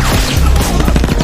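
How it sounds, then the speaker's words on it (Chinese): Two gunshots ring out in an action film fight, sharp cracking bursts amid a loud, cluttered mix of impacts and low rumble. "两枪又是解决一个。"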